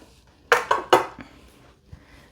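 Top cover of a vintage Kenmore 158.12310 sewing machine comes off with a few close, sharp metallic clacks in quick succession, then a softer knock and a faint tap.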